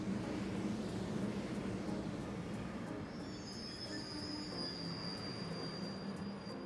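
A train runs in the video game Trails of Cold Steel, giving a steady rolling rumble with a high metallic wheel squeal that rises partway through and holds, with no voices over it.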